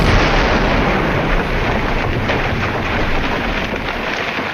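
A huge, sustained roaring blast fills the whole clip, a dense rumbling explosion that stays loud throughout without pause.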